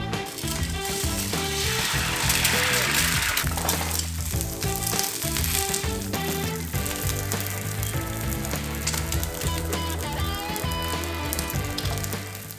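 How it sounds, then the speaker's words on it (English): Grilled cheese sandwich spread with mayo frying in a pan, giving a loud, steady sizzle that runs unbroken throughout with clattering kitchen noises layered on top. "I really like putting mayo on my grilled cheese when I toast them"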